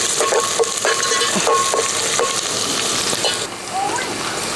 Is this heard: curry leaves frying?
yes